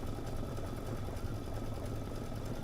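An embroidery machine stitches a scarf appliqué with a steady, continuous mechanical whir and rapid needle rhythm, fairly quiet and unbroken, with no talking.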